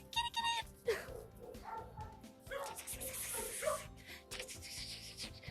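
A puppy plays with a toy in a play yard, giving short yips and playful growly barks amid rustling and scuffling, with a person talking faintly in the background.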